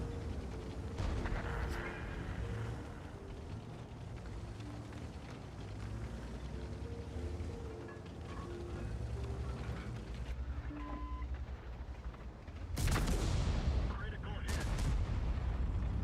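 Tank cannon firing HEAT rounds in a video game, two heavy booms close together near the end over a rumbling battle ambience, with people talking throughout.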